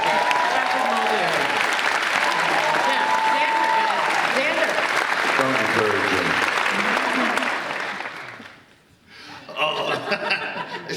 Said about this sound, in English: Big round of applause for Mr. Patrick.